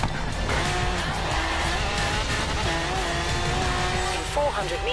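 In the Forza Horizon 3 racing game, a car engine revs and shifts pitch over game music and effects, with tire noise mixed in and a person talking over the steady, busy mix.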